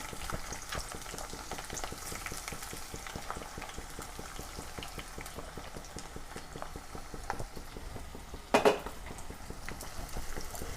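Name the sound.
onions frying in a pan for biryani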